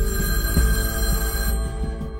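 An old telephone bell ringing steadily and loudly on its own, a dense, continuous ring that cuts off partway through.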